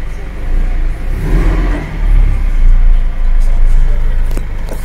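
A GAZelle Next van with a newly replaced hub pulls out of a garage, its engine rumbling loudly up close and revving a little as it moves off, with a voice briefly heard over it.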